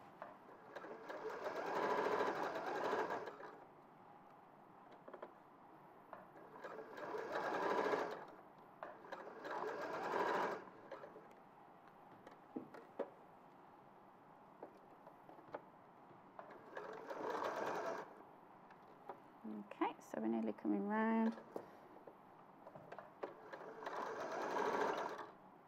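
A sewing machine stitches with twin needles in repeated runs of whirring a few seconds long, separated by quiet pauses, with soft mechanical clicks between runs.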